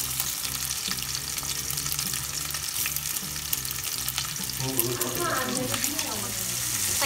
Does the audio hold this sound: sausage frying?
yes